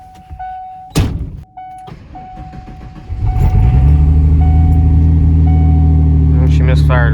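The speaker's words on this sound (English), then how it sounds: "I honestly think it's time to really take this thing out for a test drive for the first time in months." A $500 Ford F-150 pickup after a budget cylinder head swap: door thunks, then the engine cranks and settles into a loud, steady low idle close up, with a faint chime beeping early on.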